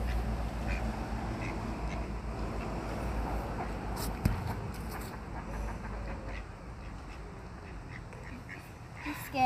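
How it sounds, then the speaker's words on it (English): Ducks quack at a riverside park among scattered calls and background chatter, with a sharp knock near the start and a louder burst at the end. "Hello duck. Hello duck."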